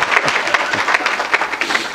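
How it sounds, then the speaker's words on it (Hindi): Audience at a live mushaira poetry event clapping for a poet, a loud, close burst of applause with individual claps distinct and no talking. "एक बार तालियां बजा दी दे आप गौर साहब के लिए"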